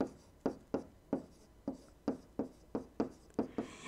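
A pen writes out permutations by hand in quick, regular strokes, roughly ten short scratchy pulses at close range with nothing else heard.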